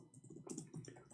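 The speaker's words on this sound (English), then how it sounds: "Hold on, I'm typing in Arabic." Someone typing on a computer keyboard, typing Arabic text into an internet search; a short run of light, close key clicks with uneven rhythm, with no voices.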